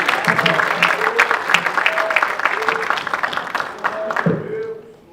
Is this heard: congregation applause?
yes